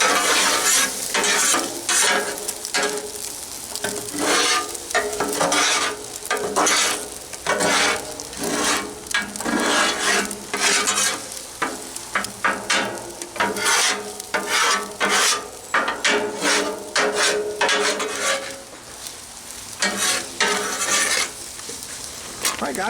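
Eggs being scrambled on a Blackstone griddle: continuous loud sizzling with rapid repeated metal spatula scrapes and taps on the flat-top, running on for over twenty seconds and now and then broken by brief talk.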